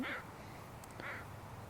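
Mallard duck quacking at an estuary, two short raspy calls, one at the start and another about a second later, fairly distant over steady low background noise.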